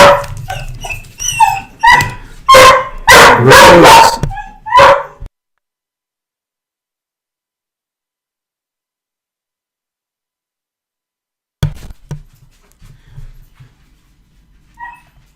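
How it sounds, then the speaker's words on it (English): Dog barking loudly and repeatedly at close range, a rapid burst of sharp barks and yips lasting several seconds, then silence, then a few fainter whimpers and yips. "dog's going crazy for a minute"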